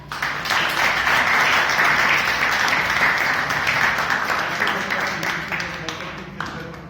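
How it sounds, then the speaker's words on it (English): Loud, dense applause from a large group at a Toastmasters meeting fills the space, holding steady before gradually thinning out toward the end. "A big round of applause to everyone."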